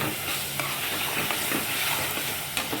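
Tomatoes fry in a pan for chicken curry, a loud dense sizzle with scraping stirs of a spoon every half second or so, close and continuous with no voices.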